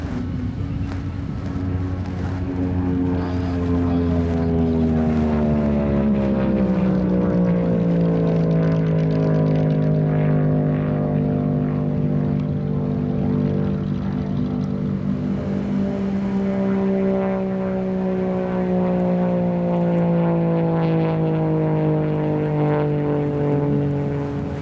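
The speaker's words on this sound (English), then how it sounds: "They put a full-on race motor in the Brew 102 car." A race car fitted with a full race motor making a speed run at Bonneville in 2009: a loud, continuous engine drone whose pitch swells and falls over nearly half a minute, with no voices.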